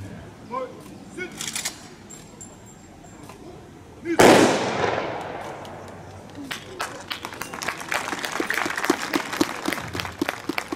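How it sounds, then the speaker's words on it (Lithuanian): A volunteer defence force fires a gun salute at a July 6 parade in Elektrėnai: one loud sharp blast, then scattered cracks and applause, with a voice over the crowd. "Dar kartą dėkojame už galingus šūvius krašto apsaugos savanorių."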